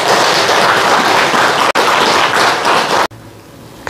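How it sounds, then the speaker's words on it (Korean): An audience at a Buddhist compassion meditation talk claps in a loud, dense burst that continues for about three seconds and then stops sharply. "박수치는 그 마음은"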